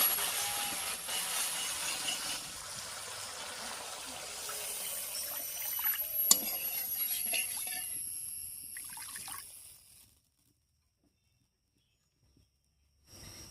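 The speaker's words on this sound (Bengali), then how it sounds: "এবার এর মধ্যে ঝোলের জন্য জল দেব।" Water poured into a hot pan of fried spice paste for the gravy of a vegetarian Bengali brinjal curry, a steady close hissing, splashing rush for about ten seconds that cuts off abruptly into near silence, with a brief knock near the end.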